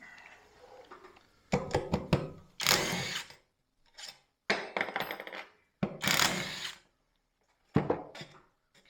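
A power drill backs bolts out of a floor buffer being scrapped for copper, in several short loud whirring bursts separated by silent pauses, with metallic clinks between runs.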